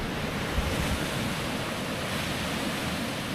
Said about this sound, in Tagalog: Kaya naririnig po yung mga alon. Medyo malalakas yung alon ngayon.